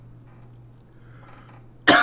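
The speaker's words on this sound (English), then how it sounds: "It got me coughing." A single sharp cough bursts out at the very end after a near-silent pause with a faint hum, set off by tasting Campbell's ghost pepper chicken noodle soup.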